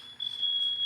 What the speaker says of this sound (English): my husband has set off the fire alarm.